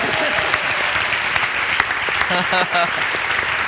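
A studio audience at a Spanish-language TV interview claps steadily throughout, with a voice speaking briefly in Spanish over the applause near the end.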